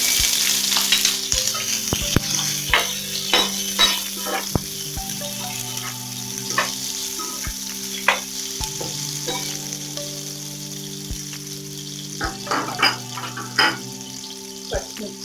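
Onions fry and sizzle in a pan for upma while a spoon stirs them, giving steady crackling with scattered clinks and scrapes at close range.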